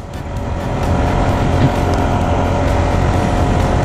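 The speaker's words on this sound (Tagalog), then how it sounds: "Lakas sa akyatan itong PCX na to." A Honda PCX scooter engine strains climbing uphill near Sula Bridge, Bacacay, Albay, a loud close drone that swells in the first second and then holds steady with wind rush.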